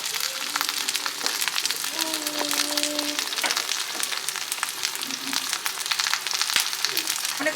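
Halved Roma tomatoes and garlic cloves fry in a pan with a steady crackling sizzle, plus a few faint clinks and brief tonal scrapes, heard close with no talking.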